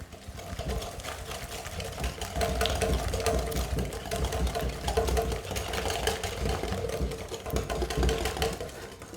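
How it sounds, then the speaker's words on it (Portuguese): Electric hand mixer beating three eggs with a cup of sugar in a bowl, a steady continuous whirring motor hum with rattling texture, close and fairly loud throughout without pause. "Eu vou bater esses ovos com açúcar por 1 minuto só para aumentar de volume."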